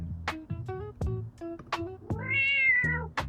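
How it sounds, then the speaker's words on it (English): Synthetic AI-generated cat meowing meant to sound aggressive: a rapid string of short, clipped meows followed by one long, drawn-out rising and falling yowl, clear and close with nothing else heard. "it sounds like a cat"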